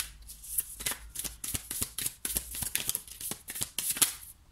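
Tarot cards being shuffled and drawn, a dense run of quick crisp riffles and flicks that continues without a break, close and fairly soft, with no talking.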